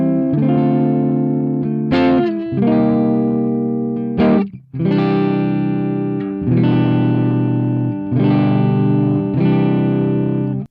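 An electric guitar through a Softube Marshall amp plugin, turned all the way up, rings out in loud, distorted sustained chords, struck in several bursts with brief muted gaps between them.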